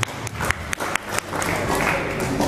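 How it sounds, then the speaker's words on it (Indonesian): A seminar audience at Bontang Smart Fest 2020 claps, starting with a few scattered sharp claps and swelling into continuous, fairly loud applause. "kita beri tepuk tangan dulu kepada Mbak Sriani dan Mas Nawawi."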